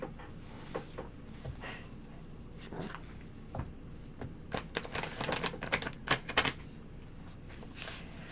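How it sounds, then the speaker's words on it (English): Fast keyboard typing clatters in uneven bursts of crisp clicks that grow denser and louder toward the middle, then trail off, over a quiet indoor background. "I just love typing on these things."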